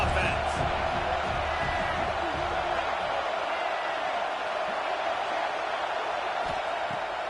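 A college football stadium crowd at an Alabama versus Arkansas game roars steadily against the offense, a dense, continuous wall of distant cheering and noise with a broadcaster's voice over it.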